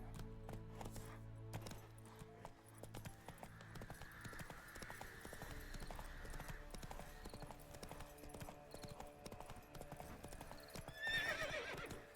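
A horse trots in The Witcher 3, its hooves clip-clopping in a steady rhythm at moderate distance, with a whinny near the end and low game sounds underneath.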